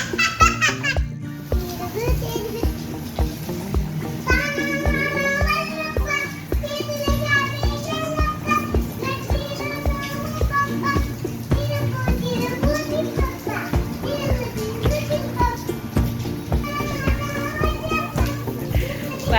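Children playing happily outdoors in the rain on an overcast evening, with steady close chatter, squeals and laughter throughout.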